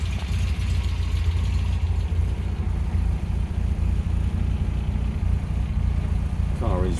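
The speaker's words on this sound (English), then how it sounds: "Idles quite nicely. That characteristic MGB thrum from the exhaust" A 1969 MG MGB GT with a stainless exhaust idles steadily nearby, a low even thrum running continuously under someone talking.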